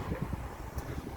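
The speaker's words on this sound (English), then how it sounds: "It's windy out here, guys." Wind buffets outdoors on a blustery July day, a low rumbling gusty roar with the soft thumps of wind striking a microphone, and no talk.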